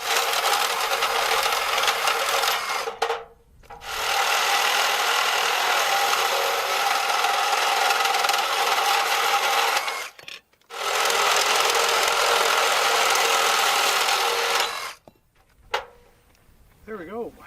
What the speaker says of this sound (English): Don't know what I'd do without a Sawzall.